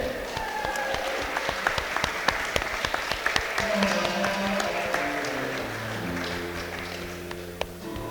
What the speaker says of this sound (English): Make some noise for our first competitor on the mat, Steve Griffiths.